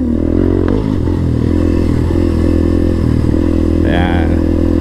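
Motorcycles climb uphill on the Dimantal dirt trail in Bugallon, wet from recent rain, with a loud, close, steady engine drone, scraping and clatter, and people talking over it.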